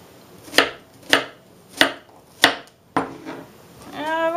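A new knife chops a medium onion on a board, five sharp, evenly spaced chops about half a second apart, close and crisp, followed by a brief rising tonal sound at the end.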